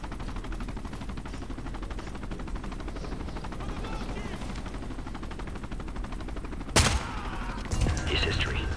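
Gunfire from the Ghost Recon Future Soldier video game, including shotgun blasts, rattles through dense continuous firing with a louder sharp burst near the end, while voices shout over the battle.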